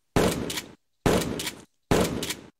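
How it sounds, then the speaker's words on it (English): A Franchi SPAS-12 shotgun replica fires in gas mode, three loud, evenly spaced shots about a second apart, each a sharp blast with a short decaying tail and silence between. "Let's fire it in gas mode."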